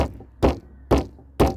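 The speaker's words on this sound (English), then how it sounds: "was banging on the door behind them." A Krikkit man bangs on a locked door in a radio-style drama, producing three heavy, evenly spaced thuds that ring out loud and close with short pauses between them.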